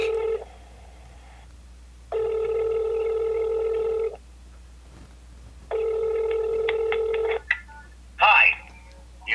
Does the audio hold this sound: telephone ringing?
yes